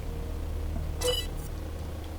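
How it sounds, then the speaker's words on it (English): A constructor switching on in Empyrion: Galactic Survival gives a single short electronic beep over a steady low machine hum, brief and fairly quiet. "You'll hear the burr-beep sound, and you'll see that turn blue, indicating the constructor is on."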